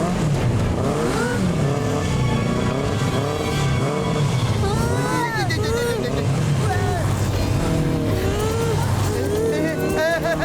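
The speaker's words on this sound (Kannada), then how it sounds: "ಈ ಬೈಕ್ಗಳು ಯಾಕೆ ನಮ್ಮನ್ನೇ ಸುತ್ತ ಹಾಕ್ತಾ ಇವೆ?" Video game motorbikes circle around the player, engines whining and swooping up and down in pitch, loud and continuous, with a voice speaking over them.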